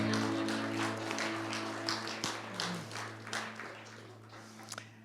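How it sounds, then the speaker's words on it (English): A church congregation claps together after a minister's remark, a steady patter of applause over a low hum that thins out and tapers into scattered claps and faint sounds by the end. "I left room for everybody to applaud"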